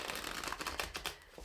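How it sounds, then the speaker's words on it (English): A deck of playing cards being shuffled, a quick faint flurry of riffling clicks lasting just over a second, close to the microphone with no speech. "I'm shuffling the deck for the first time."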